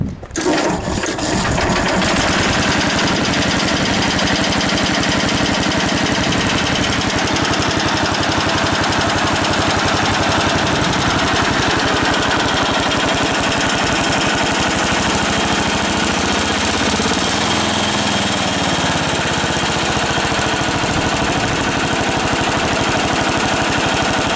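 A Gilson Brothers garden tractor engine runs loud and close after starting, a dense steady clatter that holds without pause for over twenty seconds.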